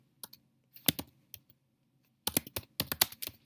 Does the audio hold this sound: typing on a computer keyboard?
yes